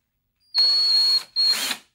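A power drill spins a DeWalt screw extractor in a chuck in two loud bursts, a steady high-pitched whine for under a second, a brief pause, then a shorter second run that winds down.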